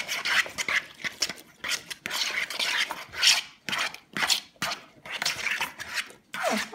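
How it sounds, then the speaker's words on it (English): A spoon scrapes and stirs potato salad mixed with mayonnaise in a bowl, in close, wet, rhythmic strokes with short pauses between passes. "Let's stir it around and see what it looks like."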